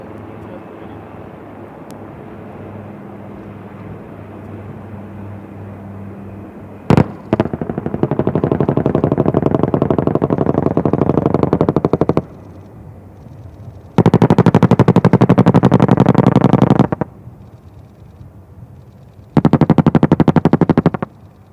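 During an air force firepower exercise in the Rajasthan desert, an ALH Mark IV Rudra attack helicopter drones steadily, then a sharp crack rings out. Two long, loud bursts of rapid gunfire or rocket fire with explosions follow, heard from a distance.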